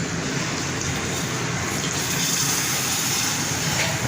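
Hot water is poured into a simmering kat amti curry in a steady, unbroken gushing stream that lasts several seconds, close and loud.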